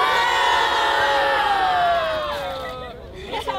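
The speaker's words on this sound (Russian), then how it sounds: "Аплодисменты ребятам" Crowd cheering and shouting for the Russian national team players at a training camp, a loud dense roar of voices that fades toward the end.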